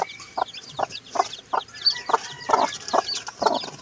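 A native hen clucks in a steady run of short, evenly spaced calls at close range, with chicks faintly peeping in the background.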